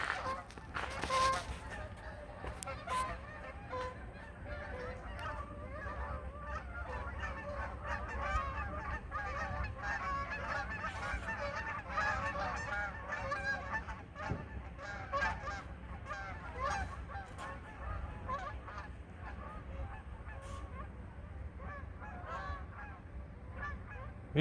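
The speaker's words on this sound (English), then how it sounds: "Here comes some geese." A flock of geese passes, honking repeatedly and overlapping in a continuous, moderately distant chorus that lasts throughout.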